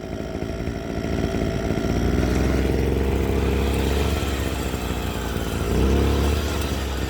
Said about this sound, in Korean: 엔진 회전수도 올라가고 얘도 빨리 돌아가죠